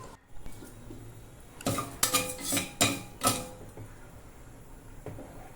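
Vermicelli being stirred as it fries in ghee, with a spoon scraping and clanking against the pan in a short burst of strokes, close up and otherwise quiet, with no talking.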